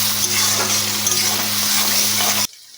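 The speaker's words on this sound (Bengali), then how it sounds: "এগুলোকে পেঁয়াজ টমেটোর সঙ্গে একটু ভেজে নিচ্ছি।" Whole spices, cloves and bay leaf, frying with onion and tomato for a Bengali chicken curry, a loud steady close sizzle with stirring that cuts off abruptly near the end.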